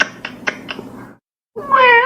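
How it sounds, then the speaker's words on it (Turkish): A short run of quick, clipped taps or chirps, a brief pause, then a loud, whiny meow, tinny like a phone speaker. "bu telefondan kedi şey çıkıyor bak gene"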